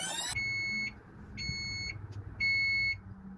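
An oven timer signals finished pizza rolls with three evenly spaced, shrill electronic beeps over a low kitchen hum, each lasting about half a second.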